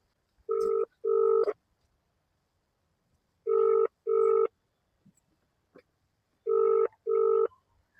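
A phone call rings back through the handset in paired tone bursts, three double-rings spaced about three seconds apart, clean and close with silence between.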